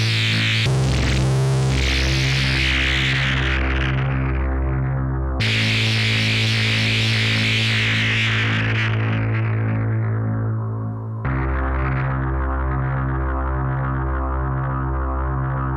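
OBNE Pardner fuzz pedal with the intensity turned up, giving thick, buzzing, heavily saturated sustained notes: three loud struck chords, each ringing out and slowly fading, with no talking.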